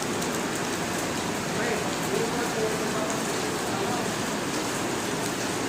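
Steady rain falls without pause, a dense, even hiss of drops spattering on surfaces close by, with faint voices now and then underneath.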